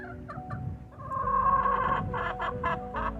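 Backyard chickens by a coop cluck in a busy, overlapping chorus, a few short clucks at first, then a louder stretch of drawn-out calls and repeated rhythmic clucks, nearby and clear with no talking.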